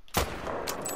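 A single loud Mosin Nagant rifle shot fired at a mule deer during a hunt, sharp crack followed by a long rolling echo that fades slowly outdoors.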